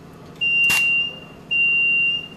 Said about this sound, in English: There's your end of stroke warning.